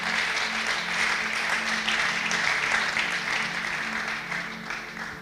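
A church congregation applauds in a sustained, even wash of clapping that fills the room and fades slightly toward the end.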